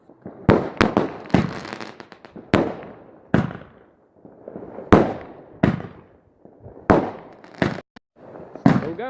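Fireworks exploding at night on bonfire night from a single cake firework: a rapid series of loud sharp bangs and cracks, some in quick pairs, each trailing into crackling decay, nearby and irregularly spaced over several seconds.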